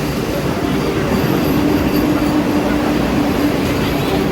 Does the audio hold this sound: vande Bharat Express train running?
yes